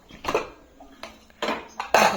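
A pressure cooker of chicken curry being opened, several sharp metallic clanks and knocks of the lid and pot, spaced unevenly and close by, with quiet gaps between them.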